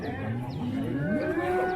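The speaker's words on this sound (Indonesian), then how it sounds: "Ada sapi gede teman-teman di situ, Mbah Supar." A large Brahman Cross bovine moos at a cattle sale yard, its long, gliding low calls overlapping with other nearby cattle against steady background murmur.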